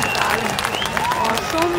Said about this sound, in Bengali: একটা জোরে হাততালি ফেটে পড়ুক হাততালিতে।